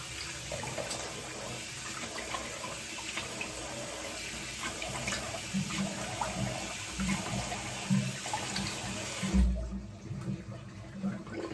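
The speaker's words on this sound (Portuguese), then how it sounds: "Vou só passar a cara por água." Water from a running tap is scooped and splashed onto a freshly shaved face, a steady rushing stream with soft splashes and a brief thud near the end before the flow quiets.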